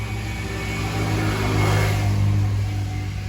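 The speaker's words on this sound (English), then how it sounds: "There's a quad." A quad bike passes nearby, its engine note swelling into a loud midrange drone and rumble at the middle before easing slightly, heard alone without speech.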